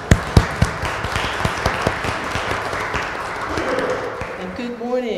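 A church congregation applauds at a morning Sunday service, producing a steady wash of hand clapping with a few sharper individual claps standing out, while a voice begins speaking faintly near the end.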